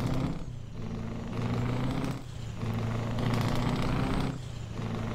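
Scania 143M truck engine in Euro Truck Simulator 2, a steady loud diesel drone with low rumbling harmonics that dips briefly every couple of seconds, like gear shifts or throttle lifts.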